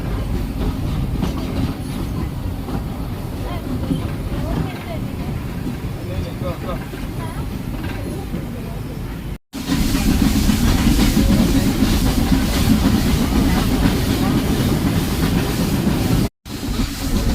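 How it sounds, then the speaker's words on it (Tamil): A train climbing an incline rumbles and clatters steadily along the track, loud and close, with a hissing edge and two brief dropouts. "ஃபஸ்ட்டு ஏற்றத்தில் ட்ரெயின் ஏற ஆரம்பிச்சிருக்கு."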